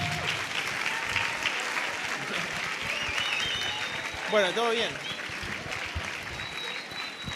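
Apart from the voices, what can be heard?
audience applause at conference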